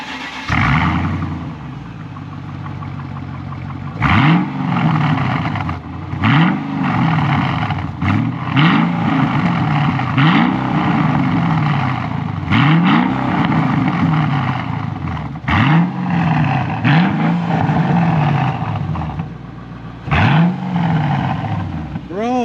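A 2005 Mercedes-Benz CL55 AMG V8 with an upgraded exhaust revs repeatedly. Each sharp blip rises and falls, separated by short pauses, and the rumbling is loud and close.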